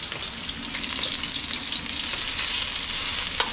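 Onions sauté in a frying pan, giving a close, steady sizzle and crackle that holds evenly throughout with no voices.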